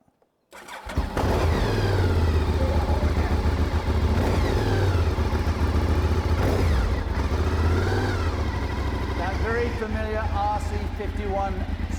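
A Honda RC166 replica motorcycle engine catches and starts, then runs loud and close with repeated rising and falling revs. Voices speak over the running engine.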